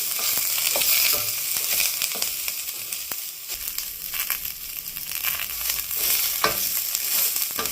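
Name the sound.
banana flower frying in a pan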